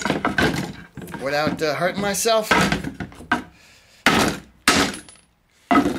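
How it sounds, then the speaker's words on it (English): Hammer blows drive a nail into hardwood, splitting the wood: someone talks first, then about three sharp, close knocks follow with short pauses between them. "I just split the wood, because it's a hardwood."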